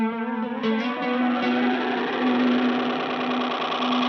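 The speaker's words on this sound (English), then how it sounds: "So in there, we've actually got this dual delay. We've got an oscillating echo," An electric guitar played through a Zoom G3Xn multi-effect pedal on a dual delay patch with oscillating echo: sustained notes ring out and repeat in wavering, pitch-wobbling echoes, loud and steady throughout with no voices.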